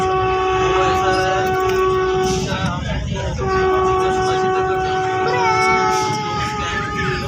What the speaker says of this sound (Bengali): একটা ট্রেনকে ওভারটেক করছে, করেও দিল